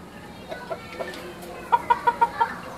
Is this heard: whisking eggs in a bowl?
no